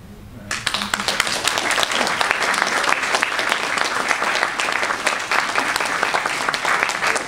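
Dense, sustained audience applause with many hands clapping together, starting abruptly and holding at full volume near the listener for several seconds, with no voices on top.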